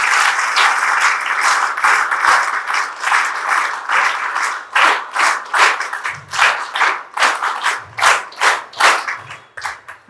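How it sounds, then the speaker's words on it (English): A room of teachers at an education training programme applauds to welcome a speaker, first as a dense continuous burst, then breaking into a rhythmic, pulsing group clap that ends in a few scattered claps. "Let us all welcome Sujata ma'am with a high praise of applause"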